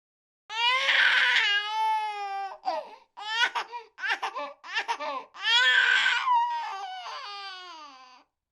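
An infant's loud, wailing cry in an audio drama, rising and breaking into sobbing bursts with brief pauses, then a long trailing wail, heard alone with no talk over it.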